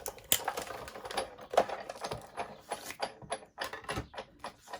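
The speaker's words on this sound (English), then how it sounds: "you just sandwich the Bigz die and whatever material you're cutting, be it cardboard, card, leather, felt, fabric, and then you run it through" A Sizzix Big Shot die-cutting machine is hand-cranked as it presses a Bigz die through thick cardboard, giving a close, steady run of mechanical clicks and ratcheting roller ticks.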